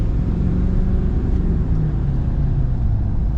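A stock diesel pickup truck drives along with a steady, loud low engine rumble and road drone that holds evenly from start to finish.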